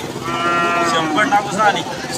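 A Nagori bull lows loudly and close, a long sustained call with a second voice overlapping amid the murmur of a crowded cattle market in Rajur.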